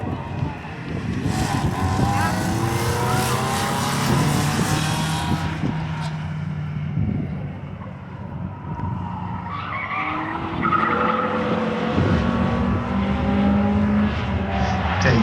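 A front-wheel-drive factory race car on a single-car qualifying lap at Indianapolis Speedrome, its engine roaring steadily and close with tires skidding and squealing through the corners, while an announcer talks over it.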